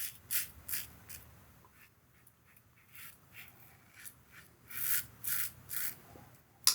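Slant razor shaving, a series of soft close rasping strokes in irregular bursts, the last few strokes louder.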